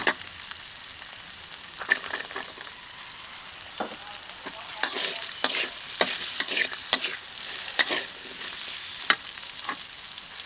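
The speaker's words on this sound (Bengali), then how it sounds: "আলুটাকে যে ভালো করে কষিয়ে নিয়েছি এখন দিয়ে দেবো মটরশুঁটি" Potatoes frying in a pan with peas just added, a steady sizzle broken by repeated scraping and stirring strokes of a spatula, close and continuous.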